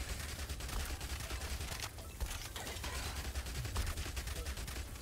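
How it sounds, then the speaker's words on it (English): Rapid, continuous submachine-gun fire from the Yet Another Zombie Survivor video game forms a dense, unbroken rattle of shots with a heavy low thump, loud and steady for the whole stretch, with no talking. "There we go, the submachine gun, there we are."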